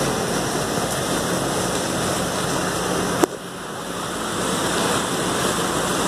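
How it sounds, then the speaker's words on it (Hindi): Sewage floodwater about three feet deep pours steadily into a mosque, a continuous broad rushing flow with one brief sharp knock partway through. "ये सारा सीवरेज का पानी है, ये मस्जिद में तैर रहा है"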